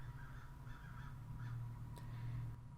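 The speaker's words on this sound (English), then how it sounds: "I'm hearing crows like a lot right now, which is weird." Crows caw outdoors in a series of hoarse, evenly spaced calls, several in a row, fairly distant and faint over a low steady hum.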